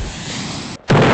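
A loud bomb explosion roars continuously, briefly drops away, then bursts back in even louder and close, with no talk over it.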